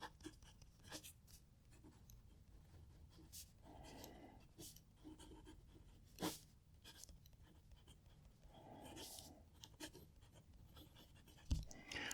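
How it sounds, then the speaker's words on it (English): A TWSBI Eco Cerulean Blue fountain pen with a generous nib writes and scribbles on paper, giving faint, close scratching strokes in short bursts with brief pauses, quiet and alone. "I'm going to write a sentence."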